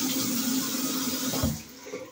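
Warm water runs from a tap in a steady hiss, close by, then cuts off near the end.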